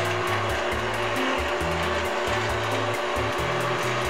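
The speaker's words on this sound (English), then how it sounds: "we're going to use the paddle mixer with the mixer, lock it in place, and just mix to blend" A stand mixer fitted with a paddle attachment beats wet carrot cake batter ingredients at a medium speed, giving a steady, continuous motor whir with a rhythmic pulsing churn throughout, close and fairly loud with no talking.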